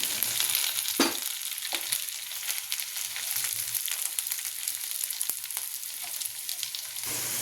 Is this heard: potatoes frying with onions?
yes